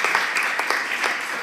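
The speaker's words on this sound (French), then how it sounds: "Oui, on peut applaudir, oui." Brief burst of audience applause at a French economics conference, a dense patter of many hands clapping at a moderate level with no talk.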